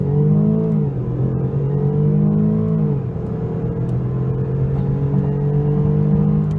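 A 2014 Range Rover Sport HSE engine pulls hard under acceleration, a deep, loud, continuous drone that rises in pitch through two gear changes, heard from inside the moving SUV with no talk.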